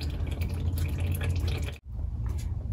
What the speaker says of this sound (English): So now it's just dripping very slowly.